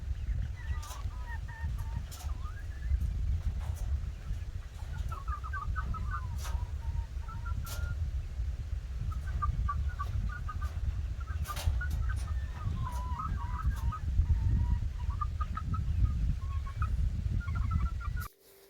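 A backyard chicken flock clucking and squawking in scattered bursts over a constant low rumble of wind or handling noise, moderately near, with faint murmurs of people in the background.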